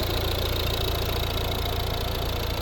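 A 2013 Volvo V60's 1.6 D2 diesel engine, built by Peugeot Citroën, idles steadily with an even, low, constant rumble and no change in pace, heard close up and alone.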